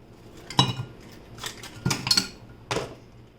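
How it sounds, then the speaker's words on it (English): Ice cubes are dropped into a container while drinks are being made, producing four or five sharp, separate clinks spread over a few seconds against a quiet background. "I'm going to put the ice cubes in this."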